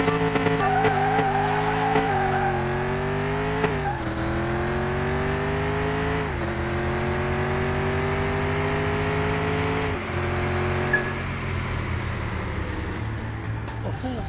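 Ford race cars roar in a Car Mechanic Simulator 2021 race, engines holding a loud, steady drone that rises and dips with gear changes and acceleration, with brief tire noise before the sound thins out near the end.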